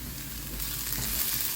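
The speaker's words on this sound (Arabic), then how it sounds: "اهو هقلي البصله كده تدبل بس" Onion frying in oil makes a continuous, close sizzle that holds steady, with a soft stirring texture throughout.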